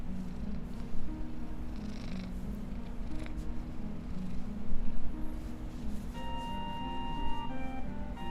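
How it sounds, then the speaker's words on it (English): A house cat purrs steadily and close by in a continuous low rumble, with faint higher electronic tones entering partway through. "Cat's constantly trying to get out and go into the woods."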